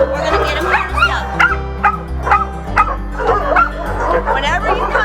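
Several dogs bark, yip and whimper in kennels, a loud, busy chorus of overlapping barks close by, with a steady low hum underneath.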